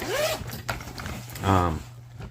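A zipper on a small toolkit pouch is pulled open in a few quick rasping strokes close up, with a person talking softly around the sound.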